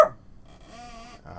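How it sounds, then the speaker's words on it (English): A pet dog gives a single sharp bark at the very start, then a faint whining whimper trails on quietly in a room. "Rusty just decided to bark his head off"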